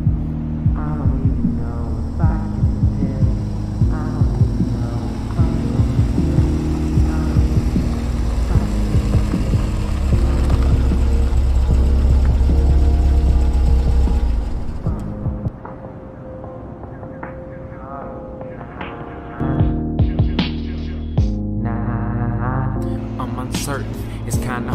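Car driving up as a sound effect in a song: a deep throbbing engine hum swells under the music for several seconds, then cuts out before the beat returns.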